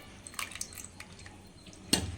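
Water splashes and drips faintly into a mixer-grinder jar in a home kitchen, with small irregular trickles and one sharper splash near the end.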